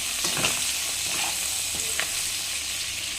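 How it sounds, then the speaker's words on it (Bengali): A salted egg fries in oil in a pan with a close, busy sizzle and crackle, broken by a few scraping stirs. "তাহলে ডিমটা ভেজে তুলে নিই।"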